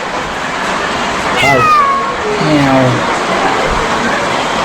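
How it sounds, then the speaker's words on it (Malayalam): Two drawn-out meows from a Bengal cat, one after the other, close by over a steady background hiss; no talking. "ബംഗാൾ ക്യാറ്റ്."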